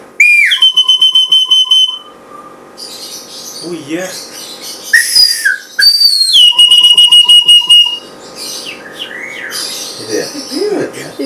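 A handheld whistle device used to talk to a myna bird gives repeated loud, shrill trilling whistles in bursts, with a myna answering in chirps and calls while people speak briefly nearby.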